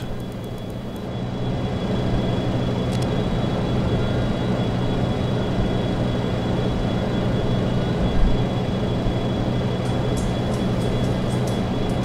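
Boeing 727 jet airliner in the X-Plane 11 flight simulator, accelerating after takeoff toward flaps-up speed: a steady, loud broadband engine roar with a low hum that holds evenly throughout, no voices.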